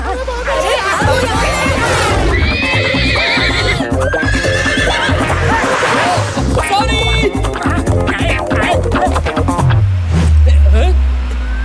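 A cartoon horse neighs and whinnies while its hooves clip-clop in a steady rhythm, with voices chattering over it and a vehicle rumbling low near the end.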